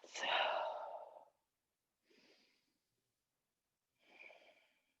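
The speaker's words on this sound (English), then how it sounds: "Let's take 3 breaths." Three deep breaths, the first long and strong, the next two shorter and softer, each a breathy exhale in a quiet room with pauses between.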